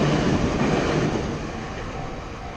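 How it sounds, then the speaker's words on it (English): A train rumbles past close by, a loud, steady rolling roar with a brief high squeal partway through, easing slightly toward the end with no one speaking. "Oh, maybe train."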